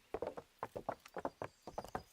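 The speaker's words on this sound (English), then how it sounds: "I'm riding a horse on your roof." Horse hooves clip-clop in a video game while the horse is ridden across a roof, a quick, steady run of crisp hoof knocks in twos and threes, clear and fairly close.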